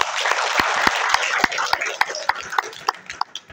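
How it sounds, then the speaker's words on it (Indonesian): An audience at a national-awareness seminar claps, a dense burst of applause that thins into scattered, sharper individual claps toward the end. "mohon tepuk tangan kepada dia"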